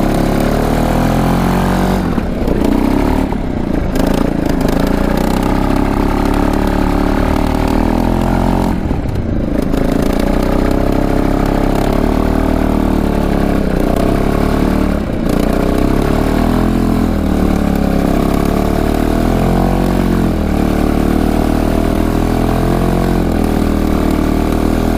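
A 600 lb Kawasaki 4x4 ATV engine runs slightly lean, loud and close, with a steady chugging idle broken by several surging revs and clattering bursts as the front wheel spins. No one speaks.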